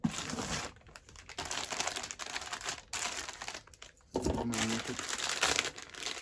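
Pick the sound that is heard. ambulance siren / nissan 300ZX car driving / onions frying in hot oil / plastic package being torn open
plastic package being torn open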